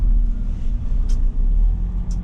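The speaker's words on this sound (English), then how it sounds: "Cars." Steady low rumbling of vehicle traffic heard from inside a moving vehicle on a road, with continuous engine and tire drone and two brief high hissing accents.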